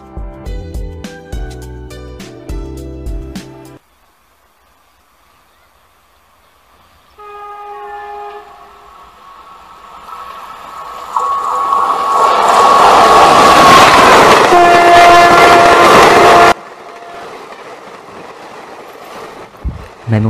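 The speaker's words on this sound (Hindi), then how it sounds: "मैं मुंबई हावड़ा मेल के स्लीपर क्लास में खिड़की वाली सीट पर बैठा था।" A Mumbai-Howrah Mail passenger train runs past after a short musical intro, a rumbling rise of wheels and carriages building to a loud sustained roar with a horn-like tone, then cutting off abruptly.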